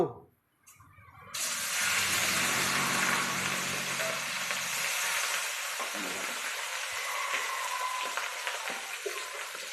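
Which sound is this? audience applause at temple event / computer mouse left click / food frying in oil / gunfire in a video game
food frying in oil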